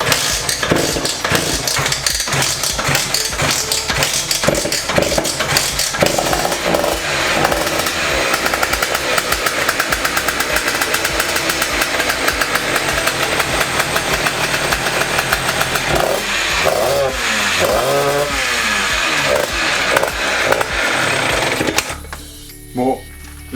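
A Yamaha DT 86 two-stroke motorcycle, its first start in a very long time after sitting outdoors, buzzes and revs loudly and continuously for about twenty seconds before cutting out, with voices talking over it.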